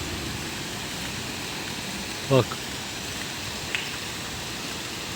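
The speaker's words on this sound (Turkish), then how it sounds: "Böyle dere gibi bir şey akıyor. Su akıyor şurada." A steady broadband rush of a flowing stream continues unbroken throughout, with one brief spoken word partway through.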